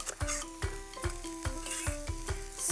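Tofu and vegetables stir-fried with coriander in a pan give off a constant close sizzle, broken by rhythmic scraping tosses of the spatula about every half second.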